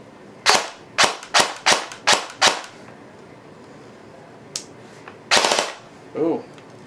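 An airsoft AEG electric gun rewired with Dean connectors on a 7.4 V battery fires a rapid string of six sharp shots, then after a pause a short burst and a final muffled pop, loud and close.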